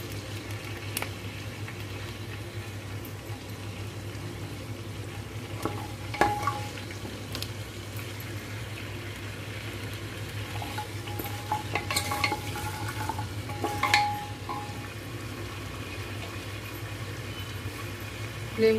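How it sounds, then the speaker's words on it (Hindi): Cumin, mustard seeds and curry leaves sauté in a pan for mutton maiqaliya, giving a faint, steady sizzle with a few scattered pops and stirring scrapes over a low background hum. "1 टेबलस्पून जीरा, राई और करी पत्ता। अच्छे से सॉटे करेंगे इसको।"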